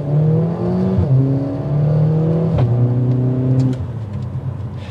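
A 2022 Mercedes-AMG GLA45 SUV pulls away hard from a standstill in the middle of a road, its engine roaring loudly through rising revs with two sharp gear-shift drops, close and alone.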